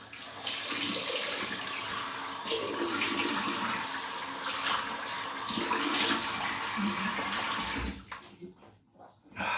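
Cold water runs steadily from a tap in a continuous broadband rush for about eight seconds, then cuts off abruptly, leaving near quiet with small knocks.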